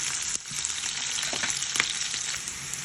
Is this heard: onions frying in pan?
yes